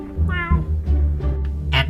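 A person imitates a cat's meow, aiming it at a puppy. Several close, loud, drawn-out meows come in quick succession.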